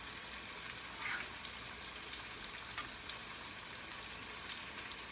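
Homemade breaded pickles fry in hot oil, giving a steady, faint, even sizzle with no talk.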